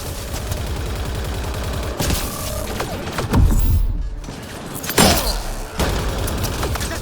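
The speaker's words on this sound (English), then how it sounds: "It's a gunfight in the gun battery then!" A gun battery firefight in Mass Effect: Andromeda, with rapid automatic gunfire rattling close and loud, broken by heavy thuds and booming impacts.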